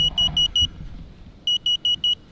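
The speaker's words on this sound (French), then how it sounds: "on peut entendre les bips d'alerte de la batterie qui signalent qu'elle est complètement dead" Two bursts of four quick, high-pitched electronic beeps, evenly spaced and loud, from a Teamgee H6 electric skateboard's low-battery alert as the battery runs completely dead, over low rumbling background noise.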